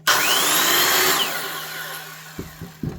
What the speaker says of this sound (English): not only this is an old Makita Hypoid, but it's one with an electric brake